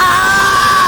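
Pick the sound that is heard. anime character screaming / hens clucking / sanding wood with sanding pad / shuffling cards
anime character screaming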